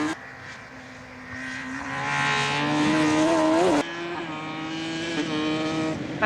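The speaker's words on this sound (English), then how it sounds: "you can really hear it up this main straight. Just listen." A loud racing engine drones steadily, its pitch climbing as it revs and dropping sharply at a quick gear change before rising again.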